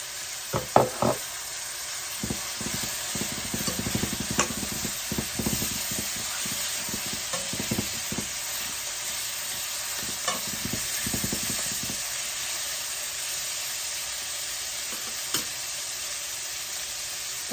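Chopped tomatoes stirred into hot oil for a tomato and shrimp curry, sizzling steadily with repeated scraping and clinking of a spoon against the pan, close and fairly loud throughout.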